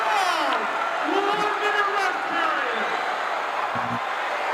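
A large arena crowd roars steadily at a 1982 professional wrestling match between Junkyard Dog and Nick Bockwinkel, a dense continuous wash of cheering with rising whoops and voices running throughout.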